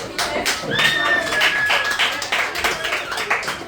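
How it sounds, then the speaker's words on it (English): Classroom students clapping for a classmate, a short burst of close, uneven hand claps with tonal voices and chatter mixed in throughout. "Please, everybody, give him a clap."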